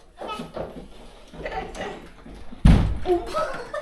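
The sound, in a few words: door sliding and closing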